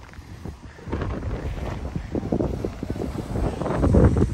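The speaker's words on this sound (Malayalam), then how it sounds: "നല്ല ഫുൾ കാറ്റാണ് കേട്ടോ, നല്ല കാറ്റാണ്" Strong wind gusting across a microphone at a beach in Dar es Salaam, Tanzania, with loud, uneven buffeting that swells and rises toward the end, with no talk over it.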